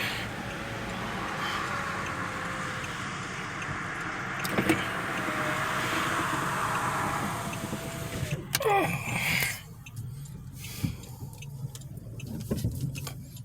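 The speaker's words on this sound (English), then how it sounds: "Car windows up." A car's electric window motor hums steadily as the glass rises, ending with a thump as it seals, followed by quieter cabin noise, in downtown McKeesport.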